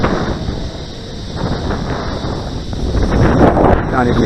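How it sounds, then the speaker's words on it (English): Strong wind buffeting the microphone outdoors at a model plane flying field, a loud rumbling roar that swells toward the end, with no talk heard. "the wind's picking up"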